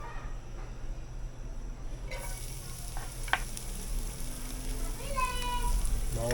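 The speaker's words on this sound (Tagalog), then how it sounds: "Pero kayo, gisahin natin." Garlic sautéing in a pan crackles and sizzles steadily, with a few scraping stirs and utensil clinks partway through and brief voices in the background.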